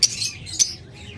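Pet birds, high-mutation parakeets, caged together at a bird seller's, give two sharp high squawks in quick succession, short shrill bursts close by with brief quiet between.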